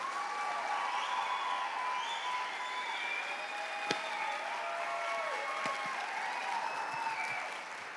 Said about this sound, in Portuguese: Não, aplaude direito.